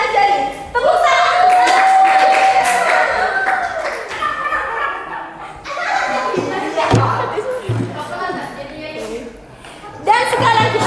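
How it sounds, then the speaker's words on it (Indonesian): A class of eleventh-grade students claps for a classmate's animal presentation. The clapping is loud and scattered, and voices and chatter run through it. "Tepuk tangan."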